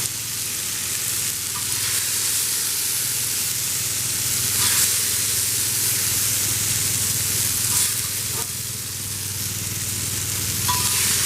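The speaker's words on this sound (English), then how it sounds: "I love a sizzling fajita pan, huh?" Asian carp fajitas sizzle and spit steadily in a hot pan, a close, loud hiss with occasional brief crackles and clinks, no talking.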